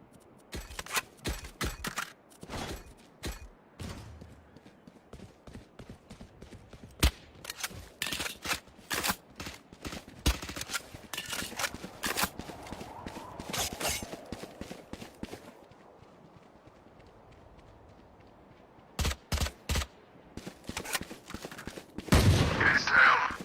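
Sharp gunshots in Grand Theft Auto V, fired in rapid clusters and single cracks, with quieter gaps and footsteps-like shuffling between volleys.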